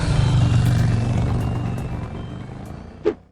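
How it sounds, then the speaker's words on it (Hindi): Cartoon vehicle in a horror comedy animation: a loud low engine rumble fades gradually over a few seconds, with faint high beeps above it and a sharp bright burst near the end. "फिर शॉन भी अपनी गाड़ी निकालकर बाबा को बचाने के लिए निकल पड़ता है।"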